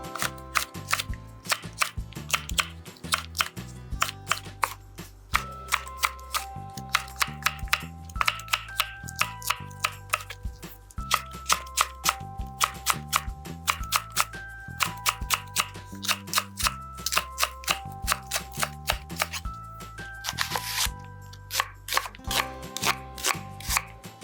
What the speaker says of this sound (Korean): 무는 요 정도의 크기로 썰어 주시면 돼요.